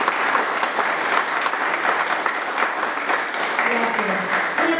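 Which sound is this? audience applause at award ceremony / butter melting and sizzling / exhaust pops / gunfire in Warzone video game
audience applause at award ceremony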